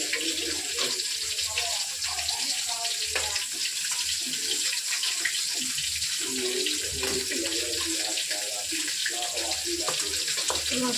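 Fish frying slowly in a pan, a steady broadband hiss and sizzle that runs continuously throughout, with faint background voices and kitchen clatter.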